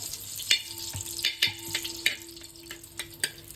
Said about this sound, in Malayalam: ഇത് നെയ്യിലും വെളിച്ചെണ്ണ ബട്ടറിലും കിടന്നിട്ട് പച്ചക്കറി വേകണം